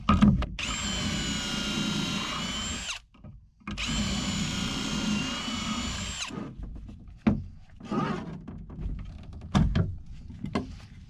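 A power drill whines loudly in two sustained bursts of about three seconds each while building a raised garden bed, followed by scattered knocks and handling noises.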